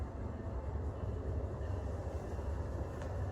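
Union Pacific West Line train number 47 to Auburn pulling into Lombard station, a steady low rumble of rolling wheels and engine, moderately loud and continuous without voices.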